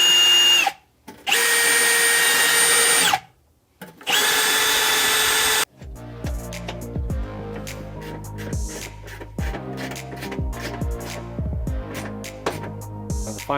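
On a Mitsubishi Evo 9, a power tool cleans the car body around a bolt down to bare metal during a battery relocation to the trunk. It gives two loud, sustained high whining bursts, then music takes over.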